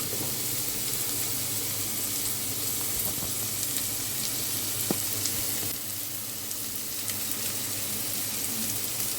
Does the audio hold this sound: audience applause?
no